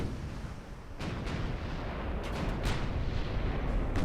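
Deep booming salvos from 13-inch naval guns in the warship game Ultimate Admiral: Dreadnoughts, several heavy reports rolling over a constant low rumble of battle, distant-sounding and continuous.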